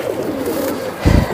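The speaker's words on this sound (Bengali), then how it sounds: "এইটা একটা সাপচিলা নর কবুতর" A male Sapchila pigeon coos close by, giving a low throaty rolling call that swells near the end over a steady background hum.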